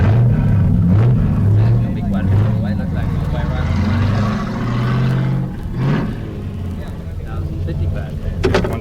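A gas dragster with a 370 cubic inch Chevrolet V8 rolls slowly toward the weigh scales, its engine a loud, steady, lumpy low rumble with a brief rev near the end.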